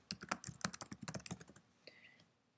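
Rapid keystrokes on a computer keyboard, a quick run of close, crisp clicks for about two seconds, then a brief faint electronic tone once the typing stops.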